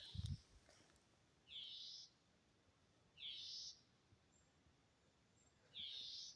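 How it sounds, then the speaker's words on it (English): A bird in a forest along a trail calls in three evenly spaced, high, slurred notes, faint and distant against quiet woodland ambience after a brief low thump. "It's this bird right here."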